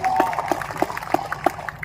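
A crowd claps in rhythm at a Hindi poetry gathering (kavi sammelan), the beats landing evenly and fairly loud, with a steady murmur of voices underneath.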